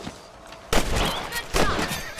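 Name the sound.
rifle shots in Red Dead Redemption video game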